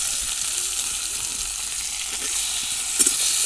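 Garlic and tomato fry in hot oil for a fish curry, giving a steady, close sizzle and hiss with a few brief spattering pops, no talk over it.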